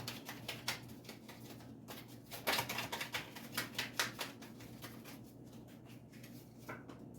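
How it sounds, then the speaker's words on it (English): Rapid papery riffling of a tarot deck being shuffled, several quick bursts with soft taps and rustles, fairly close, no voices. "Two more shuffles and I'll pull from the top"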